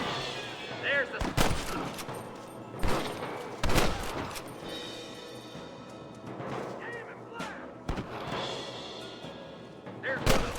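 Gunfire in Red Dead Redemption cracks out in sharp, loud single shots spaced a second or two apart, some echoing, with shouting voices and background action between the bursts.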